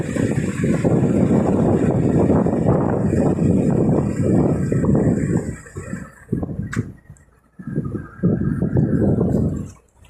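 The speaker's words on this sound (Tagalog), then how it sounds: "Malakas yung hangin dito guys" Strong wind roars and buffets the microphone for several seconds, easing briefly and then gusting hard again.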